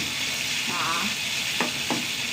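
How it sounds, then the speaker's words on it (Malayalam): Onions frying in a pan, a continuous loud close sizzle with a few soft stirring scrapes over two seconds, no talking. "ഉള്ളി നന്നായി മൂട്ട് വരട്ടെ കേട്ടാ ഉള്ളിയൊക്കെ മൂത്ത് വന്നു"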